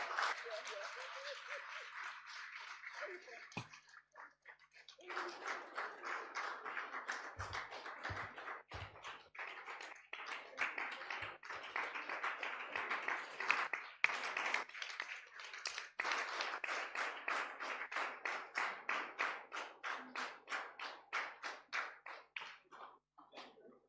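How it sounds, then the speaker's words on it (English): An audience claps at a reproductive justice litigation gathering as people walk to the stage, a long run of rhythmic, fairly close hand claps that starts ragged, settles into a steady beat, and carries a few low thumps early on. "Let's clap for them as they are coming, eh?"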